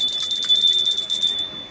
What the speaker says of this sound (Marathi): त्याच्यामध्ये टोटल्स बेल वाजते.